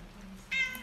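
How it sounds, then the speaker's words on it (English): A cat gives one short, clear meow close by indoors, following a moment of near quiet. "And the cat's coming right up here."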